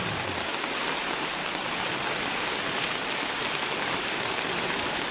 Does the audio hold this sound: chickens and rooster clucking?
no